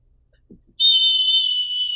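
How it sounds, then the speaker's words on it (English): A referee's whistle gives one loud, shrill sustained blast of about a second after a brief soft breath or rustle, heard alone and close. "So I have a whistle."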